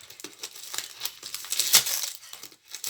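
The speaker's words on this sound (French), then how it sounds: "Donc je vais enlever le scotch, elle a très très bien scotché." Tape is peeled off a tightly sealed parcel in a series of close, quiet ripping and crinkling pulls, with no voices.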